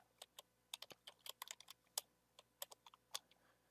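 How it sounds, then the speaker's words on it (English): A password being typed on a computer keyboard while adding a user in Ubuntu 20.04: about two dozen quick, crisp key clicks in an uneven rhythm, close and fairly quiet, with no talk. "So I have to type my ECE password in."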